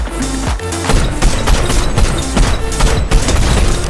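Rapid bursts of gunfire crack and boom in quick succession, loud and close, with explosive thuds mixed in like a busy game firefight.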